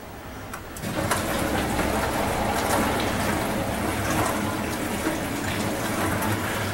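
A Midea Desea 14-place dishwasher (DWA14X2) runs its heavy wash program, starting quietly and then settling into a steady sloshing, spraying water sound with a low motor hum, loud and continuous.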